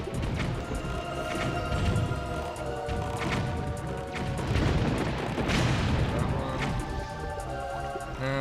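Cannons fire at the player in The Legend of Zelda: Wind Waker HD, giving a run of heavy booming blasts and crashes that come in irregular bursts, with a voice talking over them.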